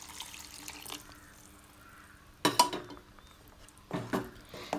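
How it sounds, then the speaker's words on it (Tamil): A tumbler of water poured into a pan of green peas masala, a brief splashing clatter near the mic, then a second shorter splash over faint kitchen background. "இப்போ ஒரு டம்ளர் நான் தண்ணி ஆட் பண்ணிக்கிறேன்"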